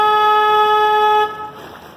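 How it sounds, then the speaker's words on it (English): A car horn blares loudly and steadily at close range for just over a second, then cuts off, leaving a faint hum of traffic. "I'm gonna honk the horn twice, so don't be alarmed."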